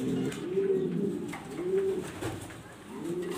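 A female pigeon about to lay her last egg coos softly in a low, repeated pattern of about three rounded calls, close and fairly quiet against light room noise.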